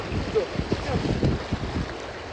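A vehicle pushes through shallow water of the Mahisagar river, its steady rushing wash and engine noise sitting close and continuous under several people talking.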